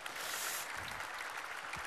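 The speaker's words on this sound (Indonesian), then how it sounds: "Kita tepuk tangan dulu dong" Applause rises from an audience at a Ramadan religious gathering with military soldiers present, a soft, continuous patter of many hands clapping, fairly faint and distant throughout.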